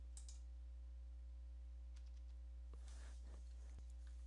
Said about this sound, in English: you want to tap the F8 key repeatedly on your keyboard